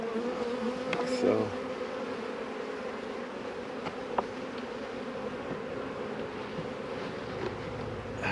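Honey bees buzz around an open hive during a brood expansion, a steady droning hum with individual bees passing close to the microphone, and no talk.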